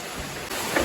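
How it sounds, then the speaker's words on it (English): Heavy rain coming down at a house under construction in Thailand, a brief continuous wash of dense hiss. "It's raining, mate."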